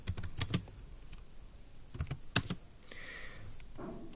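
Student marks entered on a computer keyboard during a C++ programming lecture: a few scattered clusters of close key taps separated by quiet pauses, with no talk.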